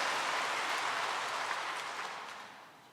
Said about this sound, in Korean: 이럴 때 박수 한번 쳐야지 뭘 그렇게.